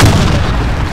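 A grenade blast in the shooter game Blackshot bursts loud and close as one heavy booming explosion with a rumbling tail.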